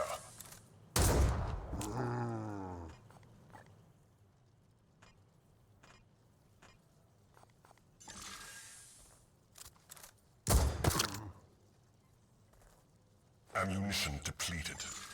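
Gunfire in the game Warhammer 40K: Chaos Gate - Daemonhunters, with a few sharp loud bursts separated by quieter stretches and thuds, and voices in between.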